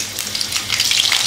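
Green chilies fry in hot oil in a kadai for an egg rice dish, giving a steady close sizzle that swells into brighter crackling spatter partway through, with no voices.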